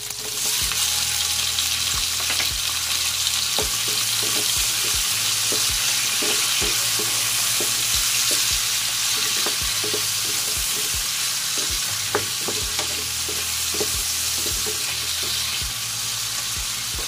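Tomatoes go into a hot pan with red snapper head, frying with a loud, steady sizzle while a utensil stirs and scrapes in repeated sharp clinks, close and continuous with no talking.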